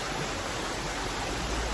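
Waterfall in a green natural setting, a steady dense rush of falling water heard close and loud, unbroken throughout.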